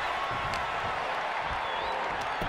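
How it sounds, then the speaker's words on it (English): A packed pro wrestling arena crowd roars steadily throughout a tag team league match in Japan, a dense, continuous wall of cheering with scattered claps and whoops. "The sound of this crowd is deafening, and he's asking for more."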